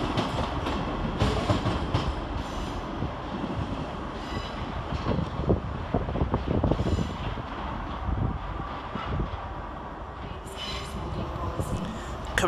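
A ScotRail class 158 diesel unit, 158724, pulls away from a platform at Edinburgh Waverley station, its engine rumble and wheel clatter continuous and fairly near, with station echo and a brief distant voice.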